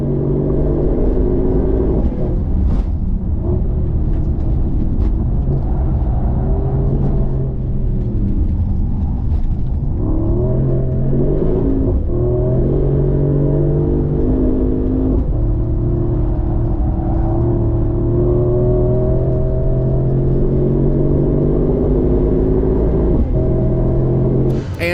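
Mercedes-AMG GT engine on a track lap, a loud continuous drone that climbs and falls in pitch through shifts and revs, with brief breaks between gears and no talking.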